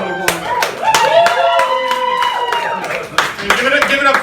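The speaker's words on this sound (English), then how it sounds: "Give yourselves a round of applause." An audience at a stand-up comedy show at a gastropub in Hagerstown, Maryland claps in a brief burst while a performer speaks loudly over the applause.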